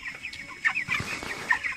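Broiler chickens about 25 days old cluck and squawk in a poultry house at harvest time, several birds calling close by in short, irregular bursts over a steady background murmur of the flock.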